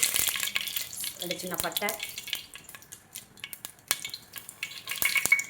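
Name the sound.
whole spices (cardamom, bay leaf, cinnamon) sizzling in hot oil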